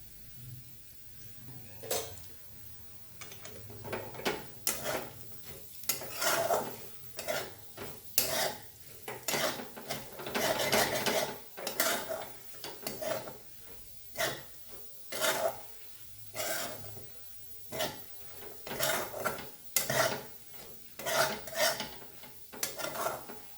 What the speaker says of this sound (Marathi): माझ्या कढईचा नुसता आवाज येतोय,